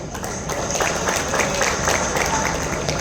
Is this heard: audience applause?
yes